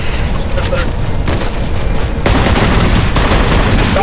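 Rapid gunfire and booming shots from a sniper battle in a competitive battle royale game tournament, dense and continuous, growing louder after a short lull, with faint voice chatter underneath.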